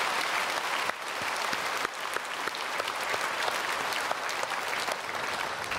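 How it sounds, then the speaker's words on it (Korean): A church congregation at a Sunday worship service applauds to welcome newly registered members, a dense, sustained wave of clapping filling a large hall, steady and loud throughout. "우리 크게 박수로 환영하겠습니다."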